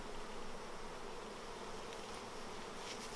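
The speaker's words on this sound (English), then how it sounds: "up there, Dave, so you can see all that brood that's going to be hatching out to replace these bees" Honeybees hum steadily around an open mini mating nuc hive, a dense continuous buzz that fills the whole stretch at an even, moderate level with no talking.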